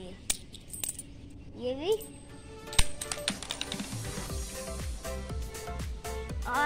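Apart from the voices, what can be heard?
20 rupee coins clinking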